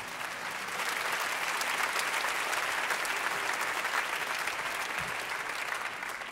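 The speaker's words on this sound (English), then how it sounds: "An applause." A concert audience at a big band performance bursts into sustained applause, a broad, even wash of many hands clapping that swells in and holds steady throughout.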